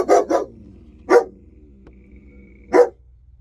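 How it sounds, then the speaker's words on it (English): A few dogs bark loudly at close range, a quick double bark followed by two single barks spaced apart, with quiet room tone between them. "Dogs are freaking out."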